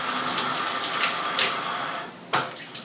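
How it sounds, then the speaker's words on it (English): A low-pressure shower head sprays water in a steady, soft hiss, continuous and close, with a brief splashing burst near the end. "This type of spray makes rinsing the hair, getting the shampoo out, very difficult because there's not a lot of velocity to that spray."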